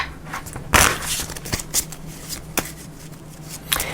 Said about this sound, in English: Give this a quick shuffle.